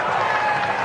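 Applause and crowd noise from spectators at a Nepal vs Scotland T20 cricket match, a steady, brief wash of clapping and cheering under a commentator's voice.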